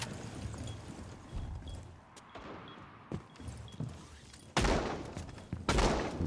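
Automatic SMG-12 bursts in Rainbow Six Siege, rapid gunfire crackling through the game mix with two loud, sharp flurries standing out near the end.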